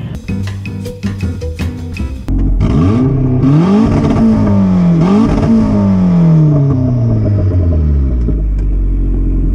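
A Toyota MR2 driving on the track at a drift event: a loud, close engine revs and falls repeatedly, rising and dropping in pitch over a steady roar, with some clatter before it.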